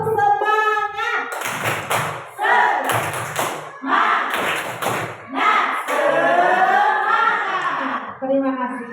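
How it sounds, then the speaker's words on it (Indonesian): Teachers at a school training session perform a rhythmic clapping routine, with loud bursts of group claps alternating with sung or chanted voices in a patterned call-and-response beat. "Kita tepuk semangat dulu."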